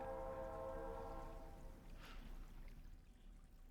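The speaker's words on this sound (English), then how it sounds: "Oh, a train." A train passes in the Stardew Valley video game, a faint rumble with a drawn-out horn tone that fades away as the rolling noise continues quietly.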